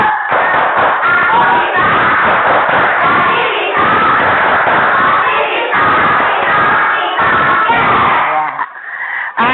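Children in an Indonesian classroom clap and shout together in a group clapping chant, loud, dense and rhythmic thumps of hands with voices throughout, before a lesson.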